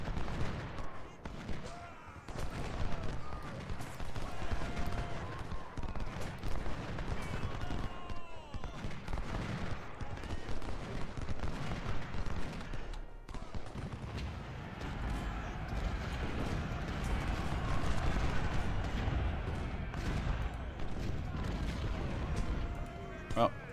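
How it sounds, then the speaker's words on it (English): Cannon fire from 20-pounder artillery in the Ultimate General: Civil War battle game, booming repeatedly amid a dense, continuous din of distant gunfire and battle noise that persists throughout. "Let's see if we can get our 20 pounders firing on these guys out here."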